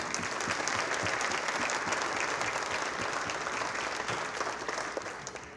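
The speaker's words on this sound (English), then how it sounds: "give Deborah another round of applause." An audience at an awards dinner applauds, a close, full, steady clapping that holds evenly for several seconds before starting to taper off.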